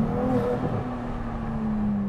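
A Ferrari 296 driven in sport mode gives a loud, steady engine drone from inside the car, a low humming tone that holds with only slight shifts in pitch.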